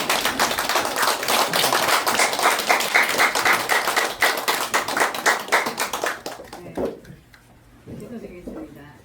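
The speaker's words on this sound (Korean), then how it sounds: "일어나서 박수 한번 주세요" A standing church congregation claps in a loud, rapid, sustained burst for about six seconds, the applause thinning into scattered claps before dying away, with voices faintly mixed in.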